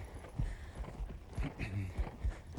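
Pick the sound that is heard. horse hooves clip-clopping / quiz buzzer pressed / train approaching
horse hooves clip-clopping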